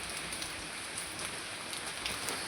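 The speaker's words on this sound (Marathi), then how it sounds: "पाऊस पण भरपूर पडतोय" Heavy rain falls at night in a steady, dense, even patter with occasional louder drops, fairly faint and continuous throughout, with no speech.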